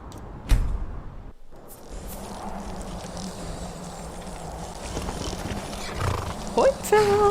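Horse in Skyrim giving a whinny near the end, with hoof clip-clop and game ambience earlier, under a man's casual Swiss German commentary.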